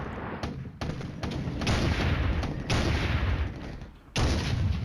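Gunfire and artillery rumble in the Soviet campaign of the wargame Flashpoint Campaigns: Red Storm, dense bursts in several blocks with brief gaps, loud and continuous.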